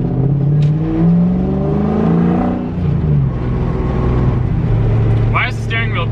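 A drift truck's exhaust drones at a low, steady rumble while cruising through a neighborhood, rising and easing slightly in pitch, with someone talking over it throughout.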